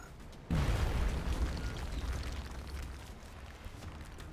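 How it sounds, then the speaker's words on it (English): A grenade goes off in the XCom: Enemy Within Long War mod, a sudden loud boom whose deep rumble rolls on and slowly fades over several seconds, with no voices. "Throwing grenade."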